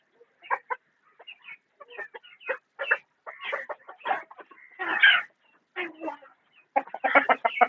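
Mixed fighter, gavran and Kadaknath-cross chickens cluck in a poultry yard, a string of short, clipped calls at close range in uneven clusters, with no talk.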